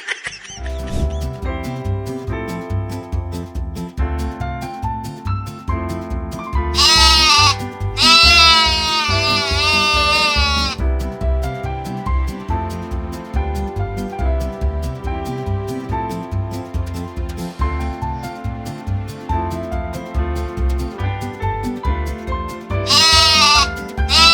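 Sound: sheep bleating

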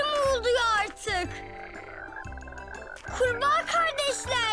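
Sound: frogs croaking in a cartoon

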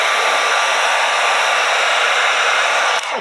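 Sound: heating a vinyl graphics wrap on a Traxxas TRX4 body

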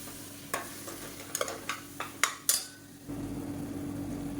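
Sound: blended tomatoes sautéing in oil

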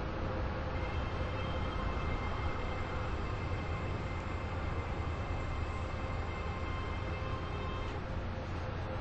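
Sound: train approaching platform at station

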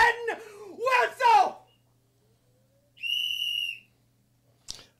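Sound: whistle blown

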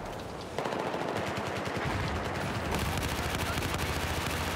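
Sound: gunfire in a shooter video game

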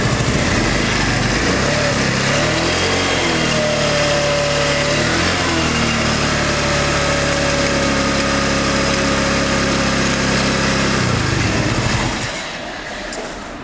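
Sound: new automatic 125cc scooter engine started and running

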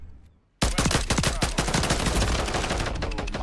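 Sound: gunfire from a weapon in the video game Call of Duty MWIII

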